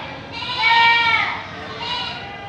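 A goat bleats loudly nearby, a long wavering call followed by a second, shorter bleat.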